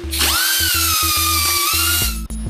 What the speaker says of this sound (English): And now we're gonna deburr the side pieces.